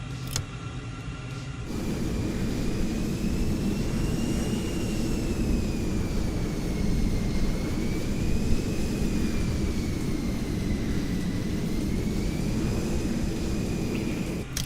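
An F-14 Tomcat jet engine in Microsoft Flight Simulator roars steadily and loudly throughout, a thick, constant rumble topped by a thin, wavering turbine whine.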